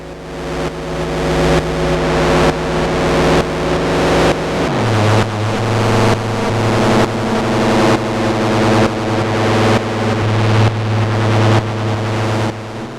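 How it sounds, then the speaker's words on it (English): A Verbos complex oscillator under heavy frequency modulation gives a loud, continuous buzzing synth drone. Its tone sweeps in repeating rising cycles, and the pitch drops partway through before the pulsing modulation carries on. "Heavy frequency modulation."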